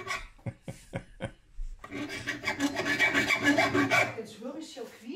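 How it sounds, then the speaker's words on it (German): A few sharp rasping strokes, then continuous scraping and squealing of metal being filed by hand while building a sliding door, loud and close, with no voices. "Jetzt höre ich hier quietschen."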